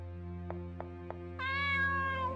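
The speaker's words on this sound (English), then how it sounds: "Oh, a cat." In the RPG Maker game Aria's Story, three soft taps are followed by a single clear cat meow, close and sustained over a steady low game music drone.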